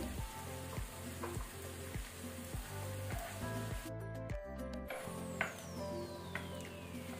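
Chicken handi masala with beaten curd frying in a pan over a medium flame, a steady close sizzle with regular stirring scrapes and occasional sharper clatters.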